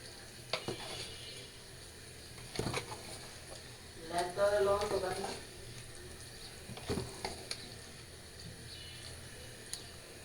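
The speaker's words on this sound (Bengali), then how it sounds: "মাংসটা দিয়ে ভালো করে মিশিয়ে নিই" Meat being stirred into a nearly finished pulao in a pot, with a faint background sizzle and a few separate scraping, clanking stirs, one longer rattling stir in the middle, in a quiet home kitchen.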